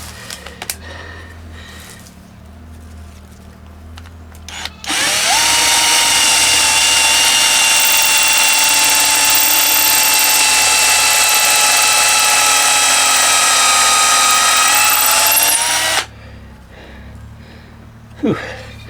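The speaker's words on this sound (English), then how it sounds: "let's get some holes drilled first" Power drill boring holes in a workshop, running in one long continuous high whine for about eleven seconds, loud and close, with brief quiet handling sounds before and after.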